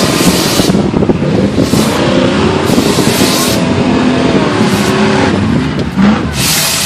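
A Subaru with a worn clutch revs hard in a mountain-top mud bog, the engine roaring loud and close in surging bursts that rise and fall in pitch for the whole stretch.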